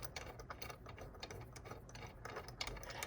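Front plate being refitted on a flatware bender: quiet, continuous metallic clicking and ratcheting, like parts and fasteners being worked by hand, close up and low in level with no speech.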